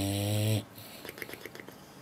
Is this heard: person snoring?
yes